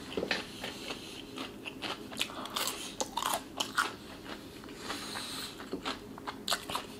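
Popeyes fried chicken nuggets are bitten and chewed close to the mic, giving repeated sharp, crisp crunches and crackles spread unevenly across several seconds, with no talking.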